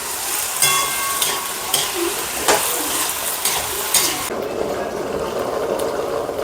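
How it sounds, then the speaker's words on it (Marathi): Potatoes fry in oil with a continuous sizzling hiss and repeated scraping stirs, the frying sound softening and thinning near the end. "आलू तेलात होऊ द्यायचे छान"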